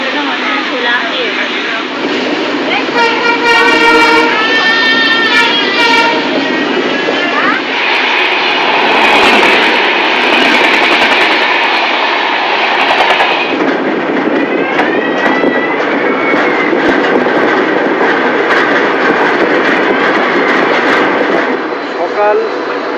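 15661 Ranchi Kamakhya Express train running out of Malda, a loud continuous rumble with shifting tonal whines and horn-like bands, steady throughout.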